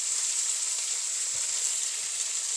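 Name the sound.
sautéing potato and brinjal in oil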